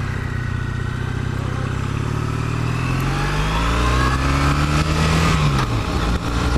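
2013 Triumph Bonneville parallel-twin motorcycle engine pulling away, heard from the rider's position: a steady rumble whose pitch rises as it accelerates, then drops at a gear change, with wind noise growing underneath.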